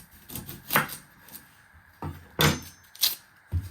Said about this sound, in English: You first want to chop your end.